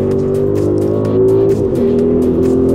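The Audi RS Q8 Performance SUV drives at speed on the Nürburgring circuit, a loud sustained engine drone with rising and shifting pitch as it accelerates.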